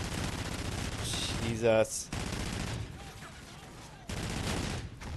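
Rapid gunfire bursts from the Call of Duty: Ghosts video game, loud and close, fired in quick volleys with a brief pause mid-clip, while someone speaks briefly over the shooting.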